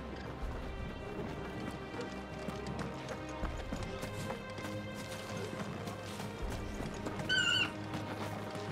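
Horse hooves clop in a steady gait through a busy, music-backed scene in the video game Final Fantasy XVI, with a short, higher whinny-like squeal rising briefly near the end.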